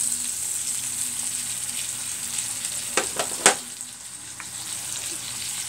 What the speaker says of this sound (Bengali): পেঁয়াজটা একটু লাল হওয়ার পরে এতে আমরা দিয়ে দেব প্রায় এক চামচের মতন আদা বাটা ও রসুন বাটা।